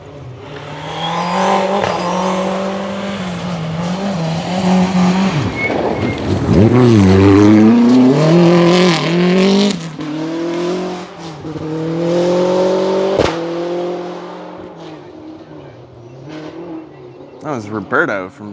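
A Rally 2 Maxi car in the RC2 class passes at speed on Oregon Trail Rally Stage 4, its engine loud and close with pitch swings as it revs and shifts, then fading, with commentary talking over it.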